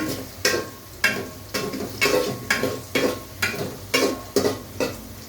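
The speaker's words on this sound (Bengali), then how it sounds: "পেঁয়াজটা একটু হালকা আমি একটু ব্রাউন ব্রাউন করে নিচ্ছি" Sliced onions stirred and fried in a pan until lightly browned for a beef dish, with a constant close sizzle and rhythmic spatula scrapes roughly twice a second, loud and without speech.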